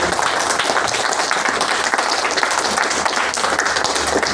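An audience at a pupil conference applauds continuously, a dense, steady wash of many hands clapping in a room.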